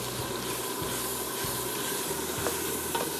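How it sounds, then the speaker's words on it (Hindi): Steady sizzling of bone-in leg meat for nalli biryani as it browns in a pot, a constant close hiss with faint stirring scrapes. "इसको मैं थोड़ा सा भून रही हूँ।"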